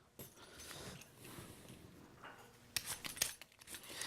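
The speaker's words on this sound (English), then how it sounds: "first I have to peel the potatoes" Russet or Idaho potatoes are peeled by hand in a home kitchen for latkes, with faint, quiet scraping strokes and a few sharper, louder scrapes near the end, without speech.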